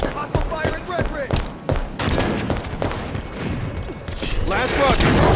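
Rapid bursts of weapon fire and mechanical clatter from Halo 5: Guardians multiplayer, dense and loud throughout with overlapping shots and effects, and game voice callouts mixed in.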